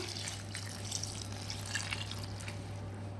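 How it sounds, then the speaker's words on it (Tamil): Water poured into a container of steeping calotropis leaves for fertilizer, a steady trickle and splash with light drips over a low constant hum, nearby and without talk. "இப்படி தண்ணியை ஊற்றிட்டு இதை ஒரு மூடியை போட்டு நல்லா மூடி நிழலில் வச்சிடலாம்"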